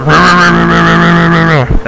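A 2011 Super Snake car in GTA IV holds a loud, steady, sustained exhaust note that runs unbroken for almost two seconds before cutting off abruptly, heard alone without talking.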